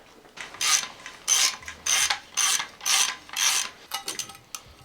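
Old plastic injector cups are pried out of an Audi S3 engine, giving a series of about six loud, rhythmic scraping clicks close up, then a few quicker, shorter clicks at the end.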